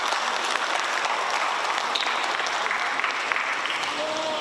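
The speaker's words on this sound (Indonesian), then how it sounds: "Tepuk tangan Bapak Ibu sekalian." Steady applause from an audience at an Indonesian awards ceremony honouring arts and literature figures, a dense wash of clapping that stays even and moderately loud for the whole stretch.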